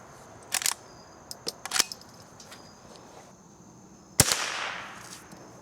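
Henry Golden Boy .22 rimfire rifle firing, a handful of sharp short cracks spread apart with a louder final shot whose echo trails off, no talking.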